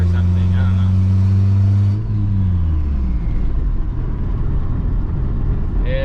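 A turbocharged Honda Civic on its first drive, the engine humming steadily then dropping as it settles into a low, rumbling cabin drone with a faint rattle, heard from inside the car.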